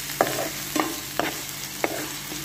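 Salted ground meat sautés in a pan with a steady close sizzle. Four evenly spaced scrapes of a utensil stirring it stand out above the sizzle.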